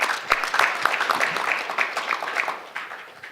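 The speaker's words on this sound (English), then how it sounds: "Give him a round of applause." Audience applauding a speaker at a fog and hybrid cloud computing expo, a steady patter of many hands clapping at moderate loudness for a few seconds.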